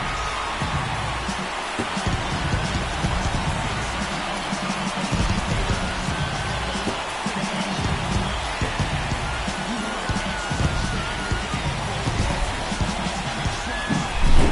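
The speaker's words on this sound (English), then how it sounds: "He just sparked this home crowd in a big way." A large home crowd roars after a home run at a Major League Baseball wildcard game, the Arizona Diamondbacks at the Atlanta Braves, a dense, sustained stadium cheer that stays loud throughout with a broadcaster talking over it.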